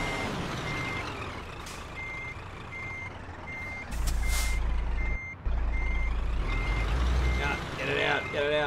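Regular electronic reversing beeps from a truck in the Euro Truck Simulator 2 driving game, evenly spaced and steady, over a heavy diesel engine rumble that deepens partway through, with a brief air-brake hiss and some talk near the end.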